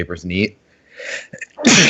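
A single sharp human sneeze bursts out loudly near the end, right after a man's speech in a casual indoor conversation.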